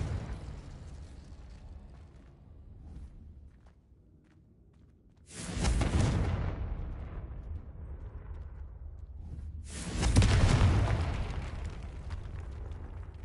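A Confringo spell goes off twice in a Harry Potter video game, each one a sudden, loud, broad fiery blast that decays into a rumbling tail, with low game ambience between the two bursts.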